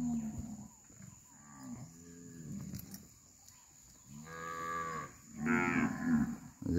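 Cattle on a Brazilian farm, including an older bull, low mooing and bellowing in several separate calls, some long and drawn out, fairly close with quiet gaps between them and no talking.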